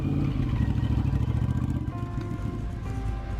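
Motorcycle exhausts revving up close, a loud, throaty, pulsing engine note that rises and falls with a rough rhythmic burble.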